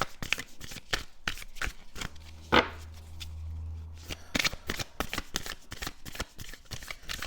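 A deck of tarot cards is shuffled by hand. Crisp riffles and flicks sound close up in a quiet room, as several short bursts spread across a few seconds.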